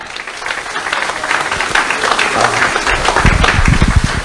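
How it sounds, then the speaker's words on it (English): Crowd applause at the opening of a Raiders tavern and grill at a Las Vegas resort casino, dense steady clapping through the whole stretch with a few cheers and a murmur of voices rising toward the end. "Big round of applause for Mr. Bedane."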